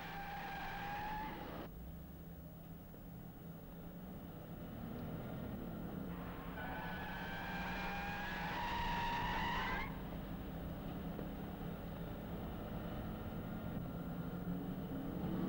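A 1970s Daimler-Benz braking hard with locked wheels on a test track, two distinct tire squeals heard from a distance, the second longer, over a low steady background.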